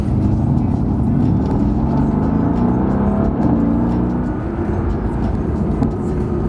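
A car engine running inside a new car, a loud, steady low rumble with smooth droning tones that rise and settle slightly as it pulls, continuous throughout with no speech over it.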